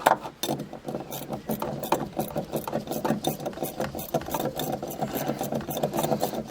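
Ratcheting wrench tightening the nut on a rear shock absorber of a BMW E91 estate, a quick run of rapid close clicks repeating steadily throughout, with no talk.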